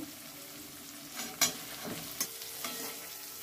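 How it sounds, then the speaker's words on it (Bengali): Potatoes are sautéed with spice masala in a pan. A quiet, steady sizzle runs under a few soft stirring scrapes and knocks. "আলুগুলো মশলার সঙ্গে ভালোভাবে কষানো হয়ে গেছে"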